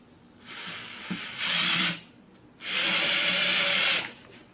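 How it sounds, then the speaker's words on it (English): A power drill bores into a cowboy boot skate in two bursts, a shorter one and then a longer one, a loud whirring grind with a brief pause between. "so I can drill above it just slightly and be fine"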